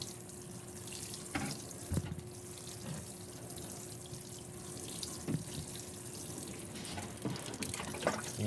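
Water poured from a container onto an African nightcrawler worm bin in winter: a steady, close splashing wash that runs for several seconds, with a few louder spatters along the way.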